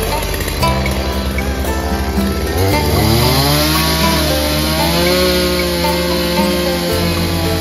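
Chainsaw cutting through a fallen bần tree, its engine droning loud and close for the whole stretch, the pitch rising and sagging as the blade bites into the wood.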